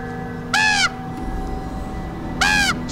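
A bird in The Vampire Diaries gives two loud, harsh crow-like caws roughly two seconds apart over a low background hum.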